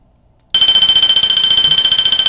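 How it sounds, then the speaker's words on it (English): A loud fire alarm bell from a Wheelock multi-tone device rings continuously with a rapid metallic clatter, starting abruptly after a brief silence and holding steady. "All right, that right there is the bell sound."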